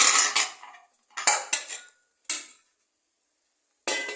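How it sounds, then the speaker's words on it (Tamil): Wheat biscuits set down one by one inside a covered pot for baking without an oven, giving several short metallic clinks and clatters close by, with pauses of silence between them. "இப்பொழுது நாம் ரெடி செய்து வைத்திருக்கும் இந்த பிஸ்கட்டுகளை உள்ளே வைக்கலாம்."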